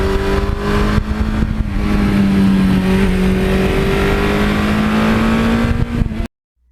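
A 1982 Suzuki GS1100E motorcycle rides on back roads: a loud, steady engine drone with a sustained hum that rises and settles in pitch across the ride, overlaid by wind rush, then cuts off abruptly.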